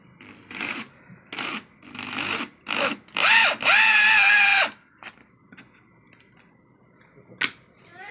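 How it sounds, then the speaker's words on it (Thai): An electric drill bores eyelet holes through a stack of four curtain panels, giving several short loud whirring bursts and then one longer sustained drilling run, followed by quieter handling noises. "การเจาะตะไก่แบบดั้งเดิมนะคะ เจาะด้วยสว่านนะค"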